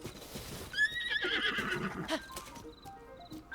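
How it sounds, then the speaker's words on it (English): Horses in Zelda: Tears of the Kingdom whinny with high, wavering neighs layered over clip-clopping hooves, fairly close and loud, with several calls overlapping before tapering into scattered short notes. "There's a lot of horses down there, actually."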